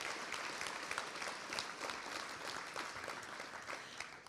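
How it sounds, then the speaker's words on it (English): At a NYSID annual meeting and awards presentation, an audience gives a fairly soft round of applause, with individual claps standing out sharply within a steady, even wash of clapping. "We can clap for that."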